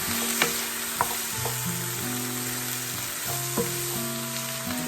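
Garlic sizzles in a frying pan with a steady close crackling hiss, overlaid by occasional clinks and sustained tonal hums in the background.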